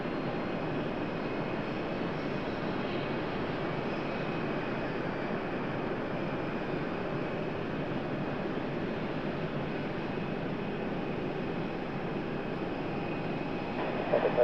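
Boeing 777 jet airliner at Raleigh-Durham airport, a steady, far-off broadband engine rumble and roar holding constant without talk.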